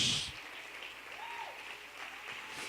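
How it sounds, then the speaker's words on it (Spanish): A congregation at a church service claps. A burst of applause comes at the start and fades into a softer, steady patter of hands, with a faint sung or spoken tone partway through. "Aplaude a Dios."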